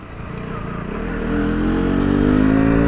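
A KTM Duke 125 motorcycle engine pulls steadily while riding, a close single-cylinder drone rising in pitch as it accelerates over a few seconds.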